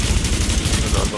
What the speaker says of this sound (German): ich werde gerade angeschossen